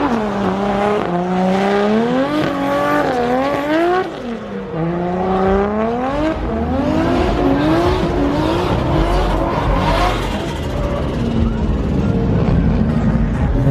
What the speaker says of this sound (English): handbrake around the bends to drift it around